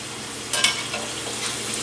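Cheesecake pieces deep-fry in 375-degree oil, a dense bright hiss of bubbling oil close up, with a brief louder crackle and splatter partway through.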